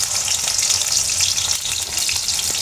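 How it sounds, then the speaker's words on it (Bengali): Chopped onion frying in hot oil in a pan, a dense, continuous close-up sizzle at steady loudness with faint crackles, no voices. "আমি এখন এখানে দিয়ে দেব পেঁয়াজ"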